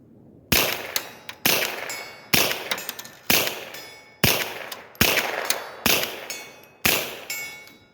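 Seven sharp .22 LR rifle shots fired through a linear compensator muzzle brake, each followed by a ringing clang from a steel target 75 yards away, evenly spaced about one second apart, loud and with no talking.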